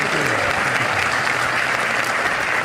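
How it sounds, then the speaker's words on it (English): Audience applause at a business conference, dense and sustained clapping from a large crowd filling the hall at an even, loud level. "Ladies and gentlemen, a big round of applause for KV Kamath and Rob Goldstein."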